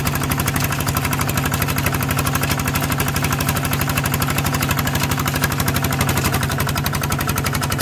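A motorcycle with a ZT155 engine on an NT16 frame is ridden, its engine chugging in a fast, even pulse that stays loud and close with steady vibration throughout.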